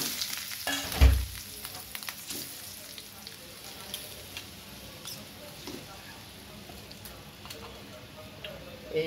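Pabda fish frying in hot oil with onion, green chilli and bay leaf nearby, a soft steady crackle and light spitting after an initial thud as the fish go in.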